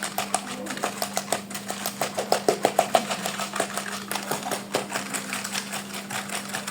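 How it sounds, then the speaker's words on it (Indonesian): A wire whisk beats egg batter for kacang telur by hand, making a fast, steady run of light rhythmic clicks and taps against the bowl with a faint electrical hum underneath and no talking. "Kita kocok terus ya teman-teman."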